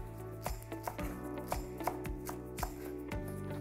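A knife chops fresh mint and coriander on a board for a gluten-free vegan Vietnamese noodle salad, with about ten crisp, close chops in an uneven rhythm.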